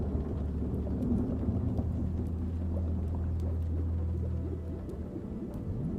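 Steady rain with low rolling thunder, a continuous dense wash of drops over a deep sustained rumble, with faint sharp crackles scattered throughout and no voices.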